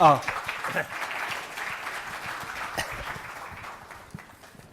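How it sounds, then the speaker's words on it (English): An audience applauds panelists at a manufacturing operations panel, a round of clapping that starts strong and gradually thins, with some talk mixed in. "please one more round of applause for our panelists"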